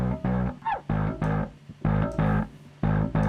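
Electric bass track run through an overdrive plugin in a mixer session, playing a choppy riff of short distorted notes with gaps between phrases, loud and close with no talking.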